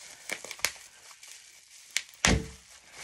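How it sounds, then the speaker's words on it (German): Crinkling and tearing of packaging while unboxing a Scentsy Cinderella castle wax warmer, several sharp rustles and a louder crumpling thunk near the end, close up with no talk. "Ich pack die mal schnell aus."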